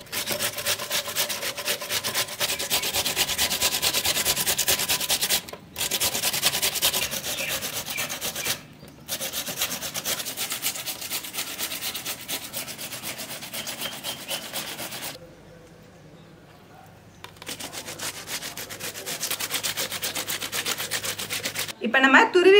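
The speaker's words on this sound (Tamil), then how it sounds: "இந்த பல்லில் நம்ம திருவி எடுத்துக்கலாம்." Raw pumpkin being grated on the large teeth of a grater while making pumpkin halwa at home, a steady close scraping rasp in long strokes with brief pauses.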